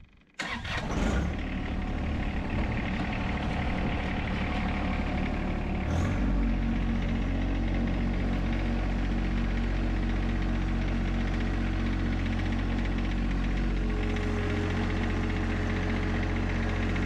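A John Deere 1025R compact tractor engine runs close by with a steady, loud, rumbling drone that rises after a few seconds into a deeper, continuous idle without pauses.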